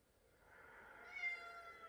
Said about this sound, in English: my cat to join us with a meow